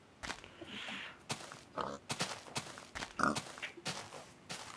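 Pigs in a video game give short, scattered grunts and oinks at moderate distance, separated by brief quiet gaps and soft thumps.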